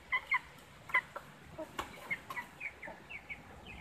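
Young chicks at twenty-one days old peep and cluck nearby in a rural pen, with sharp bright chirps and soft clucks repeating irregularly at moderate loudness.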